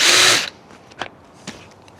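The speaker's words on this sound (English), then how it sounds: "I'll drill and tap these 4 corners" Power drill boring a hole in a corner of a prototype wood-fired outdoor oven, a loud close whirring burst for about half a second, then faint scrapes and taps.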